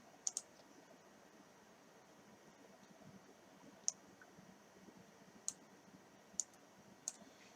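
Computer mouse clicks on a login button, a handful of sharp, faint isolated clicks spaced unevenly over a quiet room hum.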